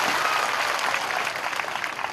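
A political rally crowd bursts into dense, continuous applause, loud and close, the clapping rippling unevenly for a couple of seconds.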